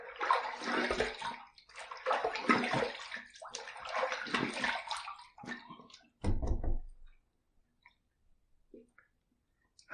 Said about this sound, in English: Let's rinse in cold water again.